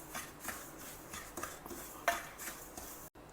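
Upma rava roasting in ghee in a kadai, with a spoon scraping and stirring against the pan in repeated soft strokes and an occasional sharper clink, close and alone, without talk.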